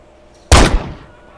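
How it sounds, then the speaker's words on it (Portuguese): A single loud Desert Eagle pistol shot from a GTA Trilogy HD weapon sound mod, a sharp close blast with a short booming tail that fades within a second. "Desert Eagle."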